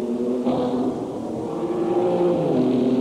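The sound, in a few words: Formula Holden race cars racing at Amaroo Park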